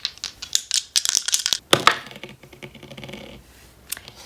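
Astrology dice are rolled on a hard surface, making a rapid run of sharp, close clattering clicks that peak in a burst and then settle into a few scattered taps.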